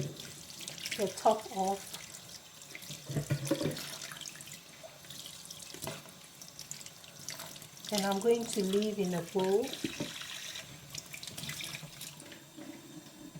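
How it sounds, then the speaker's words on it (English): An aloe vera leaf is rinsed under a running kitchen tap, with a steady stream of water splashing and trickling throughout while a person talks over it at moderate volume. "I'm going to wash it very well"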